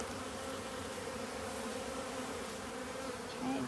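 Honeybees in a hive of about 60,000 buzz in a dense, steady drone, close and moderately loud, with a brief higher-pitched whine near the end.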